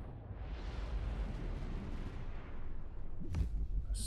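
Flak explosions in the Fractured Space spaceship combat game form a dense, continuous rumbling barrage of booms with no pauses, ending in a sharper burst near the end.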